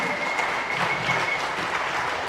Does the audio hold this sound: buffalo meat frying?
no